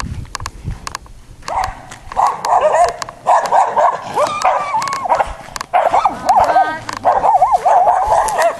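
A dog barks and yips repeatedly at close range, with whimpering sounds and some background voices mixed in.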